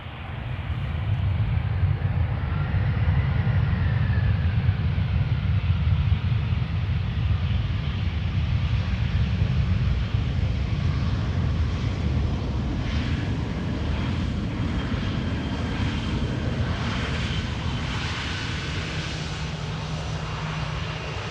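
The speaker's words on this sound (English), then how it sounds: "Croatia Airlines flight 450 arriving from Zagreb, Airbus A320, touching down." A Croatia Airlines Airbus A320 touching down at Amsterdam Schiphol gives a loud, steady roar of jet engines and rushing air, sustained and broadband throughout, with faint wind noise on the microphone and no speech.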